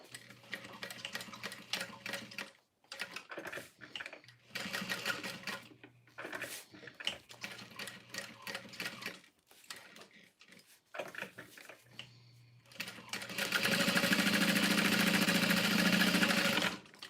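A sewing machine stitches down the center of a quilt in rapid mechanical bursts, stopping and restarting several times before a final longer, louder run near the end.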